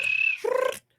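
A voice imitates a cricket's chirp with a single close whistling, trilling call that holds steady, then drops into a lower buzzing tone before cutting off into silence.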